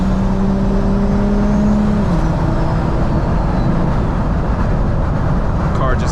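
A BMW 335i with a big turbo and 3.5-inch exhaust pulls hard under acceleration, a loud, close, continuous engine drone with rising tones as it gains speed; a voice is heard over it.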